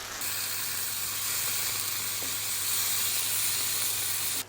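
Risotto rice sizzling and frying in a hot pan, a steady bright hiss with a low hum underneath, close and even throughout, stopping abruptly at the end with no talk.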